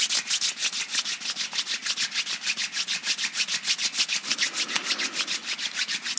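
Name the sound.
hands rubbing together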